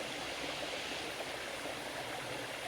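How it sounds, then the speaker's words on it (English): A forest waterfall feeding a stream, rushing in a steady, even wash of white water with no breaks, soft and somewhat distant, with no voices over it. "That is a really beautiful waterfall."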